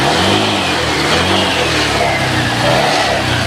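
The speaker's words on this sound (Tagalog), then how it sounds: "umaandar na yung motor" A Honda Airblade 150 motor scooter engine running close by after a fault-code repair, a steady buzzing drone that rises slightly as it revs.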